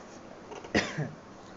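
A single short cough bursts out midway through an otherwise quiet stretch, close and fairly soft, with a faint trailing breath after it.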